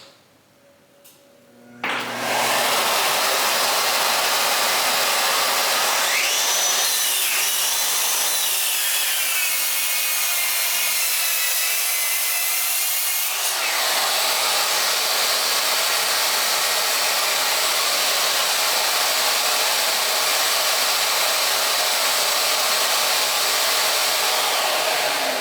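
A Ryobi cordless power tool on a regular 4 amp hour battery cuts steadily with dust collection running, a loud continuous whine and rush that starts after a short quiet moment and holds for the rest of the clip.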